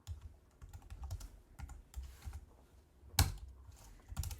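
Quiet, close clatter of terminal commands typed on a computer keyboard, with uneven bursts of keystrokes and short pauses, ending in one sharper key strike.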